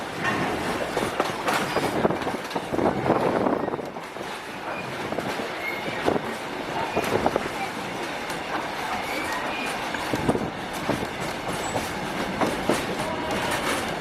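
The Kuranda Scenic Railway train in Queensland rumbles steadily along the tracks with rhythmic clacking and occasional metallic squeals, heard from inside the carriage.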